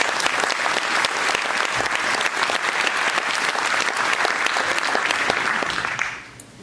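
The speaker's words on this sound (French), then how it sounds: "Vous pouvez applaudir." Sustained applause from an audience at a mayor's New Year speech in Coulaines, France, dense and steady clapping for several seconds before quickly dying away.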